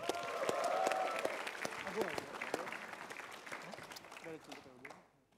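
Stand-up comedy audience in Bekasi claps to welcome a comedian onstage, a quiet wash of applause with sharp individual claps that thins out and fades as a voice begins to speak.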